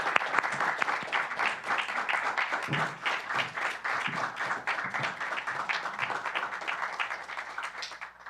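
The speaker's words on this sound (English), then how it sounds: "Could you please all give them a round of applause?" An audience applauds a panel at a civic discussion event, sustained dense clapping that carries steadily for the full stretch without talk over it.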